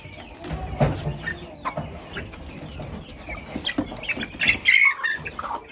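Black Indian game chickens, two roosters and a young bird, cluck and squawk close by, with short rooster calls and the young bird's higher chirps scattered through, no talking.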